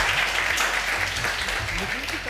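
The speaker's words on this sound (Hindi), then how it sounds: "नबिया के लिए बहुत सारी तालियां।" Studio audience applause on a Ramadan iftar TV talent show after a young girl's speech, a short burst of steady clapping with a voice talking over it and low music underneath.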